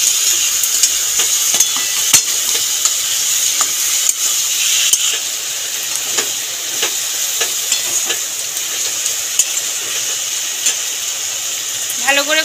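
Spice paste and pre-fried potatoes being stir-fried in hot oil for a Bengali maan kochu and prawn dish, with a steady close sizzle and frequent scraping and stirring clicks throughout.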